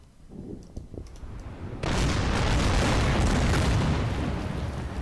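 Naval shells from a Colorado-class battleship strike a target on Betio Island in Order of Battle Pacific: a few faint thuds, then a loud sustained blast and rumble that swells and slowly fades.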